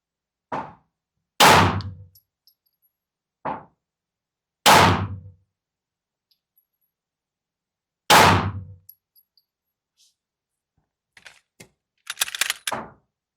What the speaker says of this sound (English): Let's go ahead and shoot some rounds.